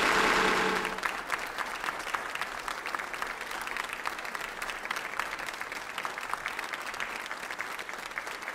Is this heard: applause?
yes